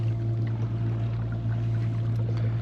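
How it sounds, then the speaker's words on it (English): An electric trolling motor set to speed 2 pushes a Lifetime Manta fishing kayak, giving a close, steady hum with a low tonal drone over continuous water wash. There are no voices. "So I am just using the trolling motor right now, nothing else."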